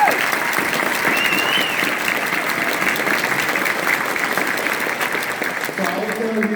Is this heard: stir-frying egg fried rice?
no